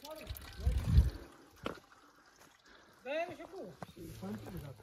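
Water being poured and sloshed outdoors on a chilly night camp, a close gurgling pour in the first second followed by splashing and trickling, with people talking around it.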